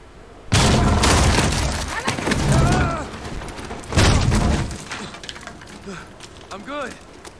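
A flashbang detonating in Call of Duty Modern Warfare: a sudden loud blast, then a second heavy boom a few seconds later, with voices speaking between and after them.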